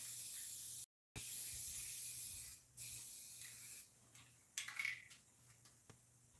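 A spray paint can hisses in several bursts of differing length, loud and close, separated by short pauses, with one sudden silent break early on.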